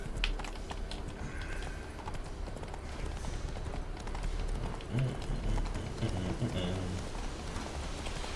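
Roach, a horse in The Witcher 3, gallops with rapid rhythmic hoofbeats under continuous game sound and a talking voice, the clip-clop running steadily throughout.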